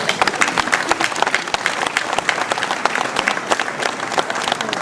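A crowd at a mayor's New Year ceremony in Ouistreham Riva-Bella applauds a staff member receiving recognition, with many sharp individual claps forming a lively, even rhythm that stays strong and close throughout.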